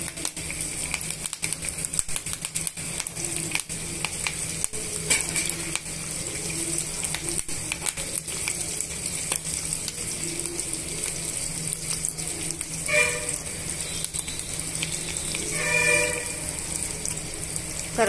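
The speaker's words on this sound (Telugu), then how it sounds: "ఇప్పుడు మనం ఇందులోనే కొంచెం కరివేపాకు కూడా యాడ్ చేసి వేయించుకుందామండి" Curry leaves frying in hot oil alongside deep-fried street-style chicken 65 pieces, a steady close sizzle and crackle running throughout with brief louder spattering bursts.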